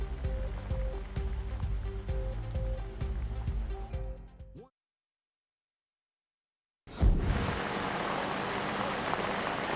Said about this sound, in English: Fire-ravaged Australia is dealing with a new problem, rain and lots of it.